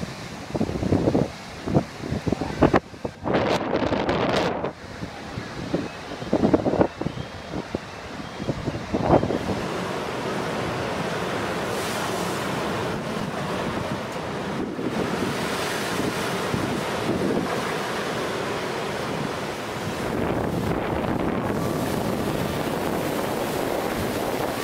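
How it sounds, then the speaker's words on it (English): Huge ocean waves crash onto the coast of Spain in 2014, a deep continuous roar of surf with loud wind buffeting the microphone and heavy bursts of impact early on, then sustained churning water. "A monster wave is recorded in Spain in 2014."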